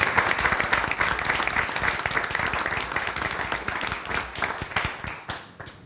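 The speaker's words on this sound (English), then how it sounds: "So another round of applause for you guys." Applause from a room of adults at a school board planning meeting for a children's presentation, dense steady clapping throughout that gradually thins toward the end.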